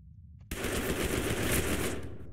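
Rapid automatic gunfire aimed at an enemy in a video game, bursting in abruptly after a moment of quiet and rattling on as a dense continuous volley to the end.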